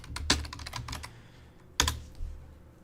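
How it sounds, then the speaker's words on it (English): Quick bursts of keystrokes on a computer keyboard, close and crisp, with a short pause before a final few taps and no voices. "I'm going to type in Coinbase"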